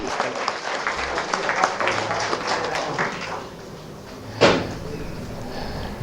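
Applause at a poetry mushaira in Buldhana as a doctor is honored, a broad crowd clapping that builds and then fades, with a sharp knock or thud near the end.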